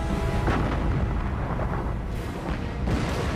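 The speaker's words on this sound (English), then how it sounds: "Bismarck and Prince Eugen rapid fire their main and secondary armament." Main and secondary guns of the battleships Bismarck and Prince Eugen in rapid fire, a loud continuous rumble of heavy booms with no speech.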